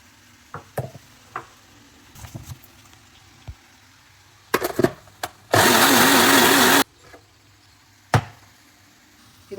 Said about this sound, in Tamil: இந்த அவியலில் போடுறதுக்கு இதை வந்து அரைச்சிட போகிறேன் இந்த தேங்காய் பச்சை மிளகா இஞ்சி அண்ட் ஜீரம் ஜீரகம்